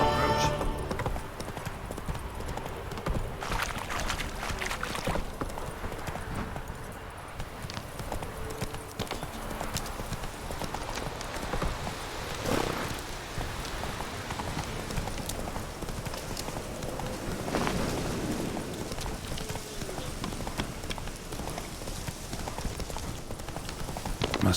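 Horse hooves clip-clop steadily in a fantasy video game as a rider travels toward a village, a continuous rhythmic trot with occasional whinnies, while someone talks over parts of it.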